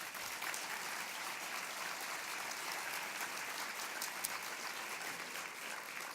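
Audience at a depression center's annual luncheon applauding steadily, a dense even wash of clapping from many hands held for several seconds at moderate distance.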